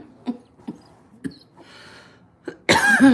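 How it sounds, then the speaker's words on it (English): Several short, dry coughs spaced apart, fairly close, followed by a sudden louder burst of noise at the end. "This dumb cough."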